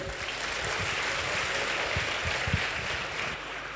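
A crowd at a leadership talk claps together, a dense patter of many hands that holds steady for a few seconds before easing slightly at the end.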